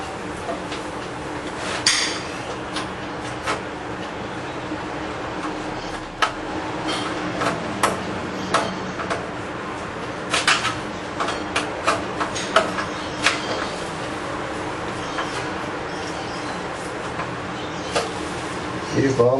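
A screw being unscrewed during computer maintenance, likely while removing a graphics card or ATX power supply: scattered close metallic ticks and scrapes continue for about twenty seconds over a faint background hum.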